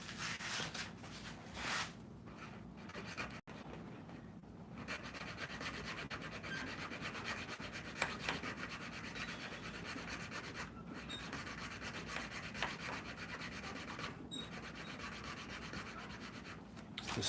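A file rasps steadily against the wooden handle of a serving tray in continuous close strokes. The sound is quiet and even, with no speech.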